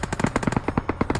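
Rapid automatic gunfire in a shooter video game, a fast rhythmic burst of about a dozen sharp shots rattling steadily over just over a second, loud and close.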